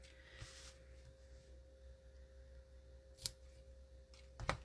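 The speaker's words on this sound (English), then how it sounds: "And I'm going to trim these pretty short." Scissors trim ribbon ends short on a paper-craft bow, giving two or three crisp snips, one early, one in the middle and a double cut at the end, over faint room hum.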